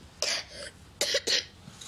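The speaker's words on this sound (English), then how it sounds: "You've got a bit of a cough, haven't you?" A child coughs in three short, sharp bursts, close and clear, with brief pauses between them in a quiet room.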